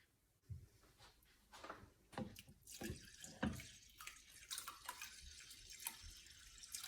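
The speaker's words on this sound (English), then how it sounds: "I'm now going to drain off this liquid" Soaking liquid being drained off rice for maki rolls, heard as close, uneven dripping and splashing water with a few louder splatters, no voices.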